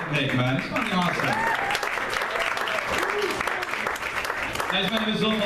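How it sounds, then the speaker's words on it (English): A stand-up comedy crowd gives a round of applause for Nick, with continuous full-room clapping and scattered shouts and voices layered over it for the whole stretch. "Get a round of applause for Nick, man."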